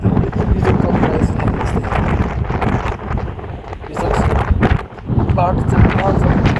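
Strong gusts roar across an open hillside near a view tower, buffeting the microphone in a dense, loud rush that barely lets up, with a person talking over it.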